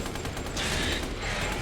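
Rapid, sustained gunfire as a full magazine is emptied at a swarm of flies in Resident Evil Village, a continuous dense roar with no break, with no talking.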